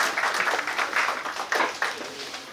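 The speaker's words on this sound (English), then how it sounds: "Can we have a huge round of applause" An audience claps in a dense, continuous patter of applause with no one speaking, steady and moderately close with small swells throughout.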